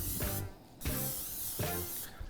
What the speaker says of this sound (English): I always try to use a fat-free cooking spray